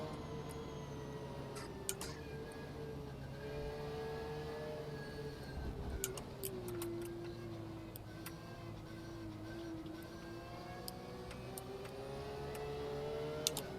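A Ferrari GT3 race car in the rFactor 2 sim racing game at Oschersleben, its engine a steady, droning whine that rises and falls slightly as it runs, with faint ticking over it and no voices.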